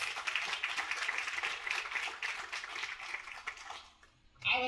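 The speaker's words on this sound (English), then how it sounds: "Please give them a round of applause." A round of applause from the crowd at the End it Now 2023 rally, moderately faint clapping that gradually thins and fades before a sudden louder sound at the very end.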